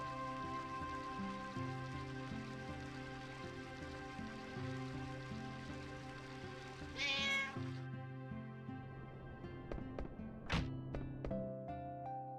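A cat meows in Final Fantasy IX, with two short, high cries rising over steady looping game music and a few soft chimes.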